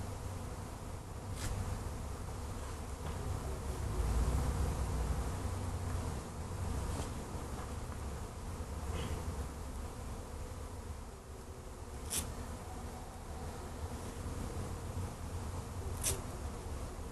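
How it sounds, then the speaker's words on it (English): A dense swarm of honeybees hums steadily around a box they are trying to enter, a continuous low drone with occasional sharper buzzes as individual bees pass near. "Boy, that's a lot of bees over in here."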